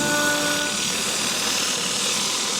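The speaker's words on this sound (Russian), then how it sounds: "такой моющий пылесос, и очень чисто он дорожки делает" A washing vacuum cleaner scrubbing stone walkways in a Spanish town gives off a close, continuous rushing whine and hiss, steady throughout with no voices.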